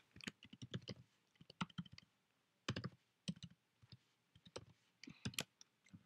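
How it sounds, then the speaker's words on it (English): Fast, uneven clicks of fingers typing on a computer keyboard in short bursts with pauses between them, close and fairly quiet, no talking. "I'm on a huge roll here when it comes to accurate typing"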